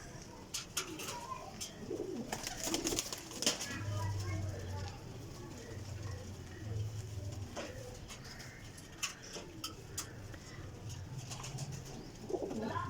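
Flying pigeons coo in low, soft, repeated phrases near the microphone, with sharper bird calls and brief rustles scattered over a quiet background.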